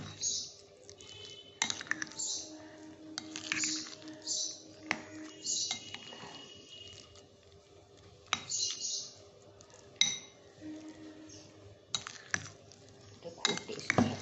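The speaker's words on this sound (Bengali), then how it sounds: "এবার খুব ভালো করে এগুলো মিশিয়ে নিচ্ছি।" Spoon clinks and scrapes while breakfast ingredients, including pomegranate seeds, are stirred together in a bowl, giving close, irregular bursts of tapping and clattering over a faint steady hum.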